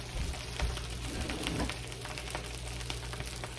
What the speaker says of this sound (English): Ooh, you guys hear that sizzle?